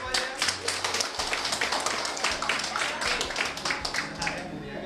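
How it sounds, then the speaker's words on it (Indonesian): At a small business-sharing session, a group of participants claps for one another, a fairly close, lively patter of individual claps with distinct hits, plus some faint voices underneath. "sangat tepuk tangan untuk semuanya"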